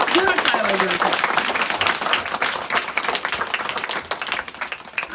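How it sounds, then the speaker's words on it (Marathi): Schoolchildren at a school tree-planting event clapping loudly to welcome guests on a rainy day, a dense, continuous crowd of hands near and steady, with brief voices over the start. "जोरात टाळ्या वाजवायच्या."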